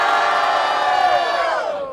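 A crowd at a rap battle in Barueri roars and whoops loudly and continuously for MK's rhymes, a dense wall of shouting voices that stays strong before easing slightly at the end.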